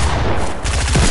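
A Desert Eagle pistol fires in a video game, several loud, close shots running together in a dense burst across the whole moment.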